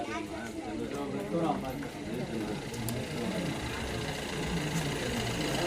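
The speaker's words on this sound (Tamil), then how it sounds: "இந்த இன்ஜின் சவுண்ட் சரியில்லை" A car engine idles roughly with an uneven, rattling rhythm, and people talk over it throughout.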